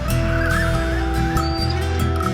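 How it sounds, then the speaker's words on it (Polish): A noisy bird repeatedly calling by a lake at night, harsh honking cries over a steady low hum, loud and persistent with no speech. "Lata ten dziwny ptak, hałas robi."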